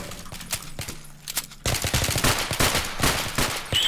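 Video game gunfire aimed at the player: sparse sharp shots at first, then a dense burst of rapid machine-gun fire, loud and continuous with no talking.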